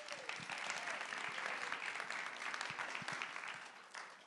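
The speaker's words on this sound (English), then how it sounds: "Give Kadea a round of applause one more time." Audience applause at an awards event fills the whole stretch as a steady, fairly faint wash of clapping, with no voices standing out above it.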